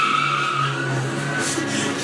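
Car tyres squeal in a long, loud, close skid as a car is swung around during a chase in an audio drama, with engine rumble underneath and no talking.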